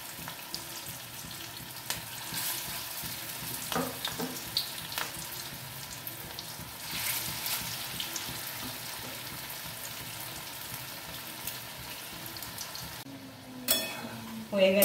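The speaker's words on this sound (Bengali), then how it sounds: "এবার মোচাগুলো এক এক করে ছেড়ে দেবো।" Banana flower fritters dropped one by one into hot oil, giving a steady, moderate sizzle of frying with occasional clinks and bursts of louder crackle.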